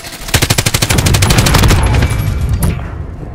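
Rapid automatic gunfire in Call of Duty Warzone: a loud, close burst of evenly spaced shots lasting about two seconds, then fading into a rumbling tail.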